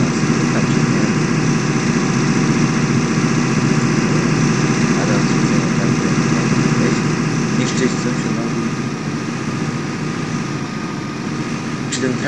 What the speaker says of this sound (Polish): Czy ten traktor nie popierdziela za szybko, można powiedzieć?